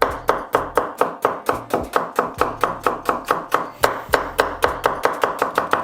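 A knife chops red onions on a board in fast, regular strokes, about thirty crisp close knocks in quick rhythm with no voice over them.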